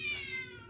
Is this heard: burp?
no